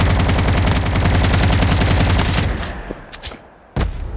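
Rapid automatic gunfire from a Call of Duty Mobile battle royale match, loud and continuous for about two and a half seconds before dropping to sparse, scattered shots and one final sharp burst.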